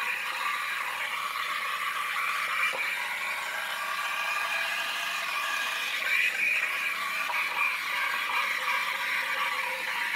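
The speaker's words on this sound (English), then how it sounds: "I'm gonna use the dial on the side here to turn on the cappuccino maker. It does froth up quite quickly" A De'Longhi Stilosa espresso maker's cappuccino wand froths milk with a steady, fairly loud hiss and whir, constant over ten seconds with faint rattling texture and small fluctuations as the steam works into the milk.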